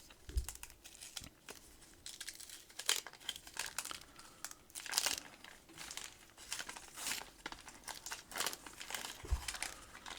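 Crinkly wax-paper wrappers of vintage Popeye Zero Heroes trading card packs are opened by hand, giving irregular close crackles and rustles with sharp crunchy bursts scattered throughout and no talk.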